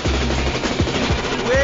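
Rapid bursts of gunfire from the Grand Theft Auto 4 video game trailer, loud and close, with a voice briefly heard over the shots.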